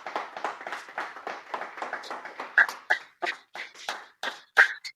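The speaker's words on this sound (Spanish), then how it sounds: "Denle un fuerte aplauso al Señor." A congregation at a church service claps in a loose rhythm, soft at first, then sharper, louder individual claps standing out near the end, with no talk over them.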